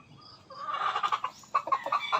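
Farmyard chickens kept as pets cluck and call in a lively burst, several short squawks rising and falling close by with no talking.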